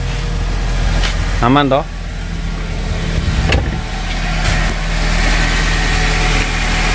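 Nissan X-Trail T30 engine running at a steady idle, a close, continuous low rumble with a brief voice speaking over it early on.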